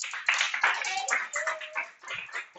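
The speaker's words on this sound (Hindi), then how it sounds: "बेटा सब इसके लिए तालियां बजाओ" A class of students clapping together for a classmate, a dense, continuous patter of many hands filling the room at close range, with a voice speaking briefly over it.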